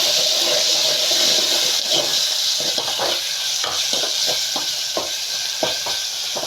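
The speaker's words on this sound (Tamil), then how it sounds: "இப்போ தக்காளி கட் பண்ணி வச்சுருந்தாலே அதையும் போட்டுடலாம். போட்டுட்டு அதையும் நல்லா வதக்கிடலாம்." Chopped tomatoes and onions sautéing in a pan for brinjal puli kuzhambu, a steady loud sizzle with repeated scraping stirs of a spoon against the pan.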